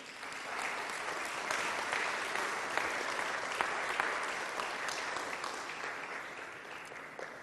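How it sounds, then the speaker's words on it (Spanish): A church congregation at a Spanish-language worship service breaks into sustained applause, with dense clapping continuing steadily throughout and a few sharper claps standing out. "¿Alguien le puede dar un aplauso al Señor?"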